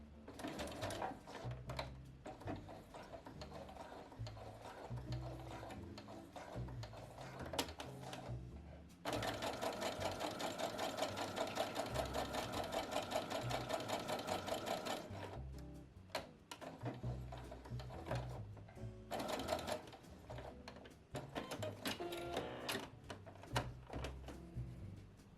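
Sewing machine stitching a small quilted fabric coaster, a close rapid mechanical whir running in bursts with pauses between runs, loudest in a long stretch through the middle.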